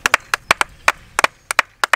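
A handful of people give a short, sparse burst of clapping, with crisp, uneven hand claps for about two seconds.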